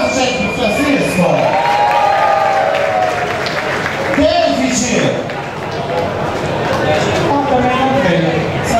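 A nightclub show audience bursts into applause and cheering, a loud, sustained crowd roar with clapping and shouts that swells, dips briefly, and carries on, with voices mixed in.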